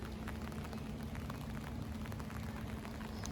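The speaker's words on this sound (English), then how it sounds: "It's starting to sprinkle more now. I think you can hear it." Light rain sprinkling outdoors, a steady soft patter of drops spread across the whole stretch, with a low constant hum running underneath.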